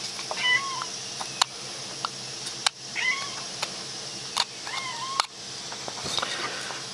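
A house cat meows three times at a steady pace, moderately close, in a quiet room during a wood-carving session, with light knife taps and clicks between the calls and no talking.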